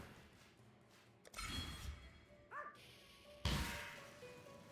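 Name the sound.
dog barking in video game Path of Exile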